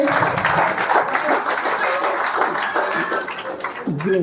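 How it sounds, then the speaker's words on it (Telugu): Audience applause at a meeting: a steady wash of many hands clapping together, fairly loud and continuous throughout, with some crowd voices mixed in. "ఒక్కసారి అందరికీ గట్టిగా క్లాప్స్ ఇద్దాం"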